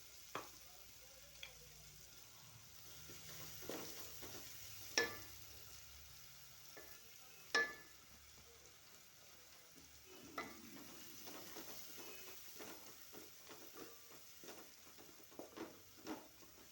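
A soft, steady sizzle of ground spice paste frying in oil for chicken curry, punctuated by occasional clinks and scrapes of a spoon stirring the pan; no talking.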